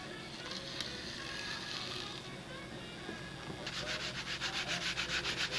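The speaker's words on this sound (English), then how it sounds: "And the rest I'll just get with the sanding block." A sanding block rubbing along a wooden edge, a faint close scratchy rasp that gives way to quick rhythmic back-and-forth strokes near the end.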